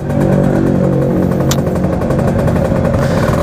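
Several motorcycles, including a Kawasaki Ninja RR, roar past close by with a sustained loud engine drone and shifting revs, a brief sharp high-pitched whine cutting through midway, no talking.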